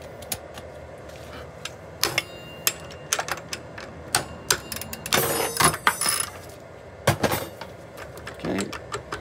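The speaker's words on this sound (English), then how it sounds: "We'll come back to the other side and tap it again." The wheel of a Kaabo Wolf King electric scooter is tapped loose during brake rotor replacement, giving sharp, irregular metallic knocks and clinks at close range, with a denser scraping cluster midway.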